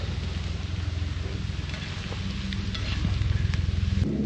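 Eggs being folded with butter in a hot pan, giving a steady close sizzle and faint crackle throughout, with a few light utensil touches near the end.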